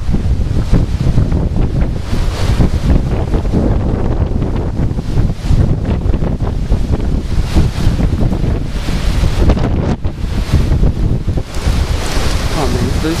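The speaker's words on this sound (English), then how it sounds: "it's just wind. That's all it is." Powerful wind from a supercell thunderstorm near St. Louis roars continuously and loudly into the microphone, with gusting surges and heavy buffeting throughout.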